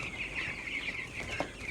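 Young broiler chickens in a brooding poultry shed give a soft, continuous chorus of peeping and clucking, faint and steady with no voices over it.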